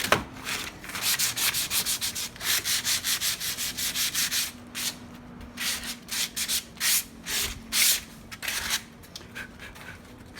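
Hand sanding on a wooden chair: quick, rhythmic rasping strokes repeat steadily back and forth, close by, with short pauses between bursts and no talking.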